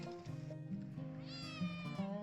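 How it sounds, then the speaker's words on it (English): Pet cats meow near a garden where a raised bed is being built, several drawn-out tonal meows in a row, one rising into a long caterwaul, fairly faint and alone without talk. "The cats have decided to come have a look from a vantage point to see what I'm doing"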